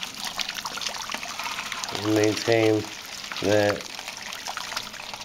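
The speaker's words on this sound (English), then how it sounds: "I'm just spraying the tinfoil with water every time I think it's getting low" Soft hissing spray of water onto tinfoil over a grain bed during beer brewing, over steady background noise, with a person talking in short bursts over it.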